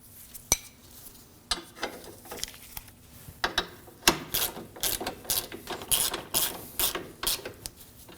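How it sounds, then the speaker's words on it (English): Wrench and socket snugging down the rear strut nut and bolt on a 2013-2015 Subaru XV Crosstrek, with quick ratchet clicks and metallic taps in uneven bursts, close and fairly quiet, no speech. "Snug down the strut nut and bolt with a 17mm wrench and socket."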